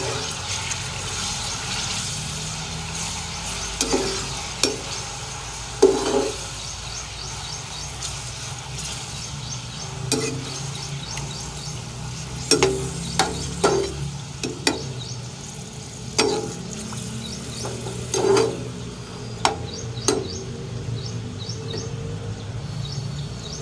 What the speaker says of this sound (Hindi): हम गोश्त को अच्छी तरह फ्राई कर लेंगे